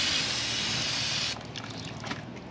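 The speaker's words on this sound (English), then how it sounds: "I'll spray some brake clean in there." Brake cleaner is sprayed from an aerosol can onto the rear axle of a Jeep Wrangler TJ. A loud, continuous hiss lasts just over a second and then cuts off, leaving faint dripping and rattling.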